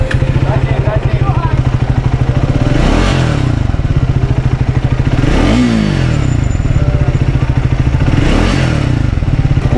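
A 2024 Triumph single-cylinder 400 motorcycle engine thumps loudly and steadily, revving up three times with rising and falling pitch, close to the listener.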